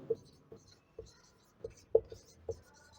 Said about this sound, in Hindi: अब लिखते हैं हम इरेशनल नंबर।